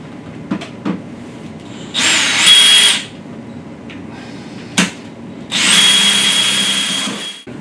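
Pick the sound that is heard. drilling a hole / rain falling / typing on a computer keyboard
drilling a hole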